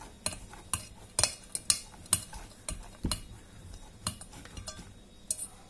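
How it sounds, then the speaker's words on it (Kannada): A spoon clinks and scrapes against a bowl in quick irregular strokes as a snack mix with salt and onion is stirred by hand, close and fairly quiet. "ನಾನು ಚೆನ್ನಾಗಿ ಮಿಕ್ಸ್ ಮಾಡ್ಕೊತಿದ್ದೀನಿ"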